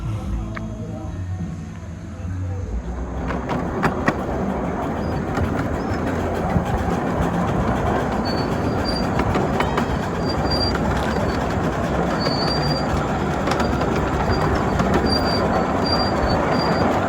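A festival ride train runs along specially laid track at the Ravenna Railroad Festival, its steady rumble and rattling wheels continuous and close, with occasional squeals and clatter and people talking faintly in the background.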